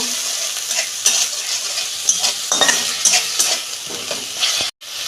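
Ginger and garlic sauté in a pan for a fish curry with cauliflower, potato and beans, making a loud, steady close sizzle with brisk stirring scrapes and light utensil taps, no voices.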